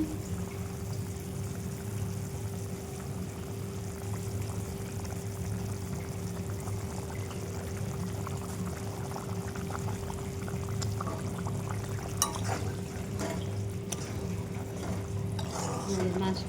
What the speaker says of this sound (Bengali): এবার মাছটা দিয়ে দিই, ঝোলটা ফুটে গেছে।